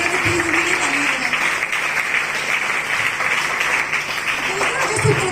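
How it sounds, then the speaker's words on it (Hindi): An audience applauds after a school stage play of Pehlwaan ki Dholak, a steady, fairly loud patter of many hands clapping, with voices faintly heard beneath. "अगर आपको कहानी अच्छा लगा, नाटक अच्छा लगा तो प्लीज मुझे तालियां बजाएं।"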